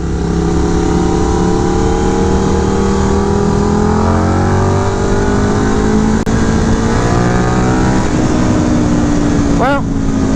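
Indian Scout Bobber motorcycle engine revving hard and accelerating through the gears, a loud continuous close-up roar with rising pitch, a brief dip as the throttle eases and a shift near the end, with wind noise throughout.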